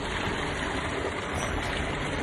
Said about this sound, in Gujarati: પાણી પાણી બધું ચાલુ જ છે